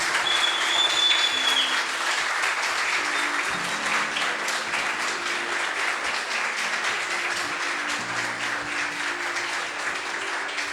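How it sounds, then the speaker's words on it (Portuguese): Steady applause from a church congregation at a ninth-anniversary celebration service, sustained for about ten seconds with dense clapping, sustained tones running underneath and a brief whistle near the start. "Vamos dar um aplauso ao Senhor Jesus"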